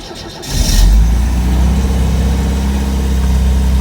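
An MGB GT engine cranks briefly, catches and settles into a loud, steady idle close by, with no speech.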